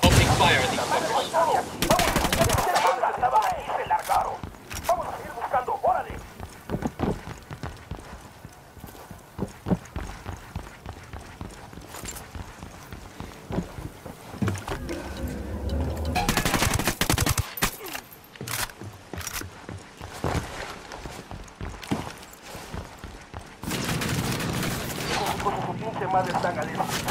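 Gunfire in Ghost Recon Wildlands, scattered sharp shots and short bursts of rifle fire with louder blasts mixed in, irregular across the clip, with voices speaking over the combat.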